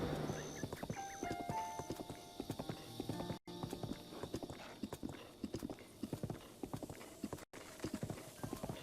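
Horse hooves clip-clopping at a steady walking rhythm in Breath of the Wild, crisp repeated hoof strikes alongside game music tones, fairly quiet overall with two brief dropouts.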